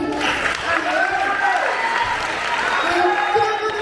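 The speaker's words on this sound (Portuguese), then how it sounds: "uma salva de palmas, né, gente?" Circus audience at the Fuxiquinho Circo Show clapping for the show's sixth anniversary, a loud, steady applause with voices and cheers mixed through it.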